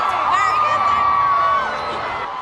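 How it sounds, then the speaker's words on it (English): Crowd at a Harry Potter and the Deathly Hallows Part 1 film premiere in Leicester Square cheering and whooping loudly, a dense continuous roar with a high sustained scream running through it. "please give a huge, huge round of applause to Bonnie Wright"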